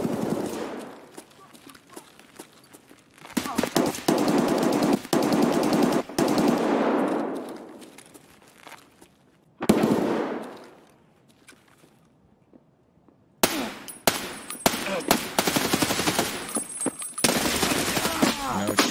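Automatic gunfire from a firefight in the video game Escape From Tarkov, loud sustained bursts broken by brief pauses, with a voice talking at points between volleys.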